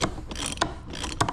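A bearing is pulled out of a Ford hybrid transmission with a bolt-and-washer puller, making close metallic ratcheting clicks and scrapes in a few quick bursts.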